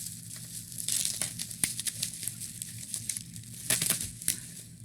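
A bubble wrap package from a record label CD grab bag is cut open, with quiet crinkling and tearing plastic sounds in irregular bursts, close and fairly faint.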